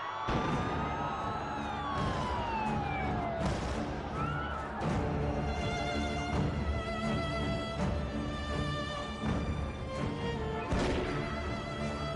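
A wailing ambulance siren sweeps up and down over a loud, chaotic street scene with crowd noise and clatter throughout.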